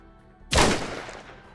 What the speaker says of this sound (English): Yet another gunshot, this time grazing the thigh of my left leg